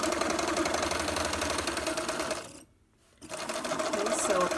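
A sewing machine stitches across quilt sashing strips, a close, steady rapid mechanical whir that stops briefly for about half a second, then starts running again.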